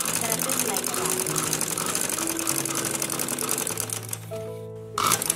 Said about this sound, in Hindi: कपड़े को खींचे बगैर हम इस तरह से सिलाई लगाएंगे।